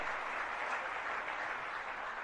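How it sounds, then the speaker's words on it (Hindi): An audience at a gathering gives a steady, even round of applause to welcome a guest; the clapping is faint and distant, with no talk over it. "जोरदार तालियों से स्वागत।"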